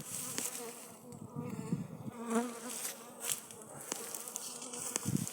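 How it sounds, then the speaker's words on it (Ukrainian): Carniolan honeybees buzz close and insistently around a phone, swooping in and out. The whirring drones rise and fall as they attack. "От нападає бджілка на телефон."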